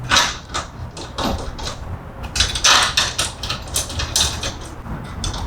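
A ratchet works on the bolts of a strut brace being fitted to a BMW, giving rapid, close clicking bursts with metallic handling clatter throughout.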